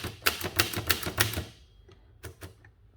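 Keys strike crisply on a 1914 Erika Model 3 folding typewriter by Seidel & Naumann, a quick run of about eight sharp clacks followed by a pause and a few slower, lighter taps.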